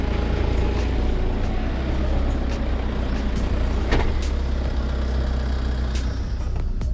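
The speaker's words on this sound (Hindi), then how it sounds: "अब देखिए रिवर्स में भी काफ़ी स्पीड में जा रही है गाड़ी।" A Tata Safari Storm 4WD SUV reverses at speed, producing a loud, continuous roar of engine and tyre noise with a few sharp clicks and knocks.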